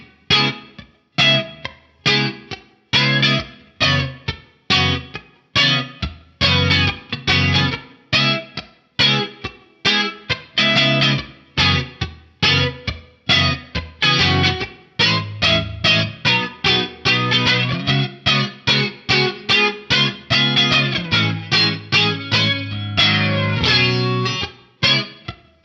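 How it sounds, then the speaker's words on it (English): A clean-toned electric guitar plays through a budget modulation pedal set to a slow, shallow flanger, producing a series of distinct plucked notes and chords with a gentle sweeping, swirling shimmer, loud and close. "And it definitely does those kind of spacey flanger tones on there."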